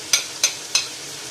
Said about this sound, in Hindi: 10 मिनट हो चुके हैं गोश्त को फ्राई होते हैं